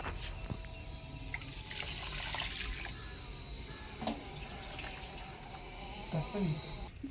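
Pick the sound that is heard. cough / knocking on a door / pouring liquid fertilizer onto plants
pouring liquid fertilizer onto plants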